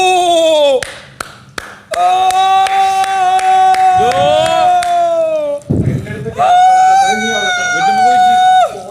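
A reality-show contestant claps his hands in encouragement, a few sharp claps near the start under a loud, wailing voice and ongoing talk.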